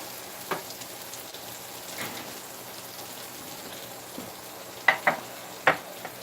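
Pork steaks sizzle in a pan with a steady, faint frying hiss, broken near the end by a few sharper pops and crackles; no voices are heard.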